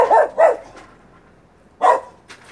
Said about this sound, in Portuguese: Desculpem pela cachorra aí.